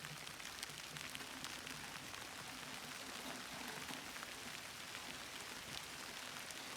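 Rain falling steadily on a peony field, a constant faint hiss of drops pattering on foliage outdoors, with no talk.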